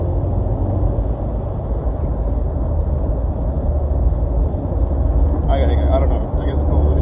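A 2018 Ford Mustang EcoBoost convertible cruising on a highway, its steady low road and engine rumble filling the cabin continuously, with faint voices briefly surfacing near the end.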